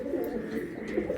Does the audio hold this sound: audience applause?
no